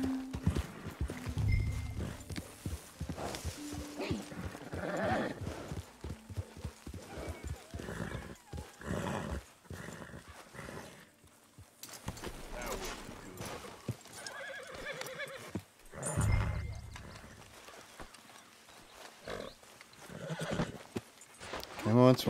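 A horse in the video game Red Dead Redemption 2 neighs and whinnies while hoofbeats clip-clop at varying pace, with someone talking over much of it.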